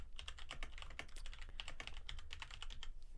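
A computer keyboard clatters under steady, rapid typing, close and continuous, with no talking.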